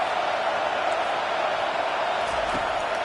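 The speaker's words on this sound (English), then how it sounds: "Decibels rising as the crowd gets behind this defense on third down." Stadium crowd noise in an NCAA football video game, a dense, continuous roar that stays at an even level as the crowd backs the defense on third down.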